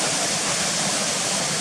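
Waterfalls at Swinner Gill rush in a steady, dense roar of falling water, close and loud, with no voices over it.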